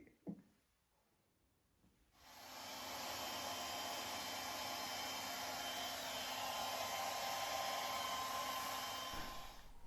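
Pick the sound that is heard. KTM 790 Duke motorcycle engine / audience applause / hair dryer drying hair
hair dryer drying hair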